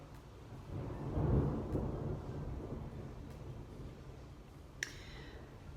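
Thunder from a storm outside rolls in a low, long rumble that swells and fades over steady background noise, and a brief click follows later.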